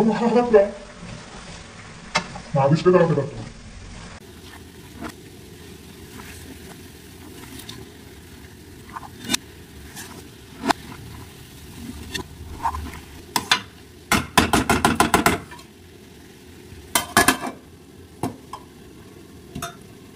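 Chicken biryani being stirred in a cooking pot: a spoon scrapes repeatedly in uneven strokes, with a quick burst of rapid scraping near the middle and a short stretch of talk at the start.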